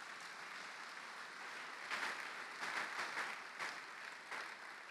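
A church congregation applauds the Lord, steady clapping filling the room, quiet and fairly distant, with a few louder swells partway through.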